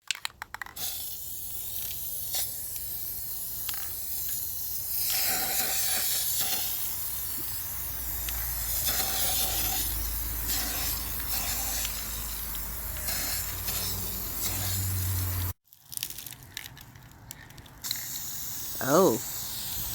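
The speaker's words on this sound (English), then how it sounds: "so we're going to spray paint that too." An aerosol can sprays paint onto an EVA foam cosplay prop in long, close hissing bursts, broken by brief pauses and handling noises, while a person talks intermittently.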